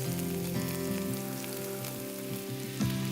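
Onions caramelize with crispy bacon in a pan over an open fire for chili, giving a steady soft sizzle and crackle under continuous background music.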